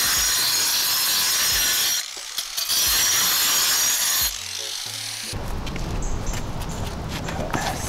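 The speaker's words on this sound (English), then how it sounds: "So we chose a few spots to cut them down with this angle grinder." An angle grinder cuts down concrete cap blocks during a home renovation, a loud, close, continuous abrasive grinding roar that breaks off briefly and then resumes, with some clattering between cuts and no talk.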